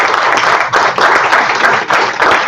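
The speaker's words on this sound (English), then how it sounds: "give ourselves a round of applause for this" A round of applause from panel participants at an entrepreneurship panel discussion in Zambia: dense, steady clapping from a group, close and loud, swelling in a few waves over a couple of seconds.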